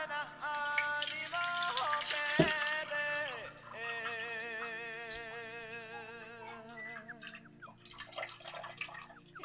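Water poured into a cooking pot while preparing Deori pork, heard as a splashing, dripping pour partly masked by loud background music.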